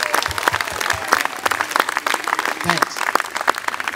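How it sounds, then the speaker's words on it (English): An audience claps in a dense, continuous round of applause. A voice speaks briefly over it. "a round of applause for all our"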